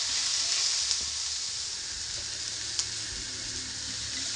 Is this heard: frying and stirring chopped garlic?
yes